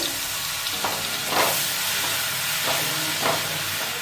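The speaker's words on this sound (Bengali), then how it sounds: "পালং পনিরের মধ্যে এখন আমি দিয়ে দিচ্ছি আদা রসুন আর টমেটোর যে পেস্টটা" Ginger, garlic and tomato paste sizzles in a pan for palak paneer, a dense, close hiss that swells in three or four short steamy bursts as it is stirred, with no one speaking.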